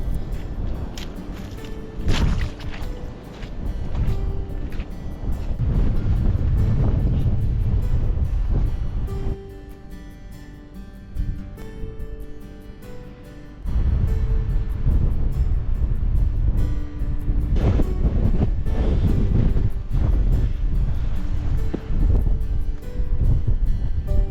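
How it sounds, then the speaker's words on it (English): Strong gusting wind on a Dartmoor tor during a 60 mph gale, a loud, roaring rumble buffeting the microphone almost throughout, easing briefly in the middle before surging back, with no talking. "I was already struggling to stand up because of the wind"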